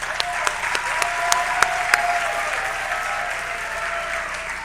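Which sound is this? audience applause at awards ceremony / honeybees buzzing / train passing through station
audience applause at awards ceremony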